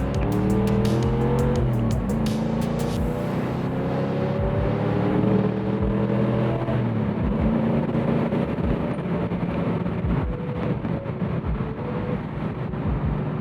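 A Ford Mustang GT with a 5.0 engine accelerates hard. Its loud engine note climbs steadily through the revs, with a rising, throaty roar that holds strong for several seconds before settling into a sustained drone, with no talk.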